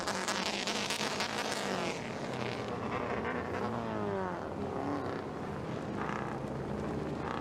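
Rallycross cars racing on a gravel track, a dense continuous engine roar with rising and falling revs from several cars, steady and fairly loud throughout with no talk.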